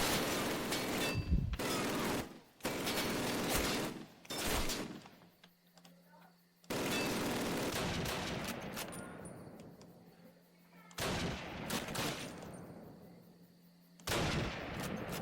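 Machine gun and rifle fire in the 2003 Call of Duty, Eder dam mission: long loud bursts of rapid automatic shots, broken by short quiet gaps, with a faint hum between volleys.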